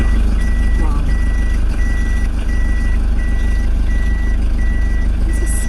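A car at a dealership in Eldoret, Kenya, sounds its reversing beeps: a regular string of short, evenly spaced tones over a steady engine hum, repeating throughout.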